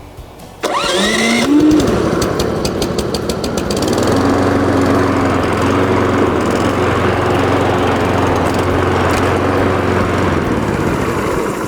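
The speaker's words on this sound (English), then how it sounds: "It's the first time this mower's been started." A Cobra MX534SPCE petrol rotary lawn mower started for the first time, with a quick pull-start rattle, then the engine catching and running loudly at a steady close-up idle.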